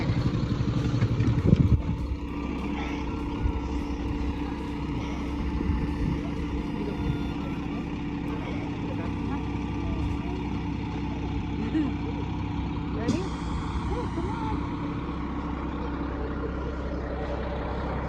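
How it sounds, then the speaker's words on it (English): A feed truck's engine runs with a steady low rumble and drone throughout, a bit louder for the first couple of seconds, with some background noise. "I need you to drive that feed truck"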